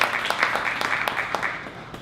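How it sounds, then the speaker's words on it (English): A short burst of applause, dense clapping from a crowd, fairly loud and steady, with talk mixed in. "Can everyone just give them a big round of applause?"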